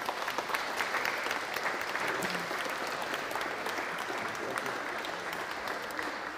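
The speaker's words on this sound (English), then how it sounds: "Shall we give them a final clap?" Applause from a church congregation at a contemporary service at All Saints Marlow fills the room, a dense, steady clapping that carries on for over six seconds at moderate volume.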